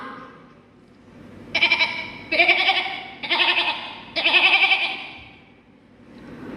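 At a mimicry contest, a voice imitates a goat bleating in four quick, wavering calls in a row, loud and close, with quiet background noise before and after.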